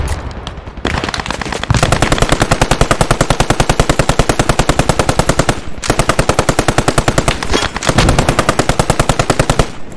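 An M1919A6 machine gun fires in the video game Post Scriptum, long loud sustained bursts of rapid evenly spaced shots broken by brief pauses.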